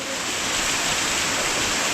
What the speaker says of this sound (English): this waterfall is called London Waterfall, Catarata Londres